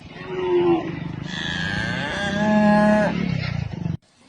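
A buffalo moos loudly and up close, a long drawn-out bellow lasting several seconds with a rising, wavering tone before it cuts off abruptly.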